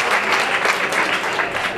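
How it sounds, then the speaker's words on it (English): A stand-up comedy audience applauding, with dense, steady clapping filling the room at an even, loud level throughout. "Give yourself a round of applause."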